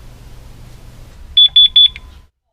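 A Honeywell Vista 20P system's 6150 keypad sounds its chime as three loud, shrill, evenly spaced beeps close to the listener, following a low background murmur, then silence.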